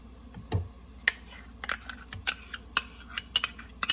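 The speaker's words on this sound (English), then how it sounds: "Give it a good whisk." A whisk clinks and taps against a bowl while mixing yogurt with ground spices for a Hyderabadi kachhi gosht mutton biryani marinade. The clinks come close and quiet in an irregular, quickening rhythm, with no talking.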